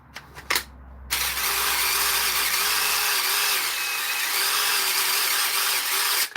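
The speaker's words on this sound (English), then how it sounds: "before I take all the screws out, I'll show you again." A power driver removes screws from a machine. A few short mechanical clicks come first, then a loud, close, continuous whirring runs for about five seconds before stopping abruptly.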